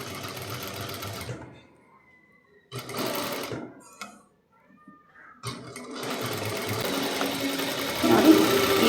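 A sewing machine stitches around a blouse neckline in close, loud whirring bursts, stopping twice for short pauses before running steadily again toward the end.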